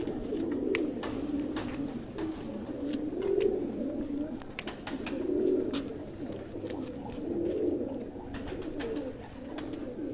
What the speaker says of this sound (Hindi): ये एक और कबूतर दोस्तों ये भी ब्रीडर का है ना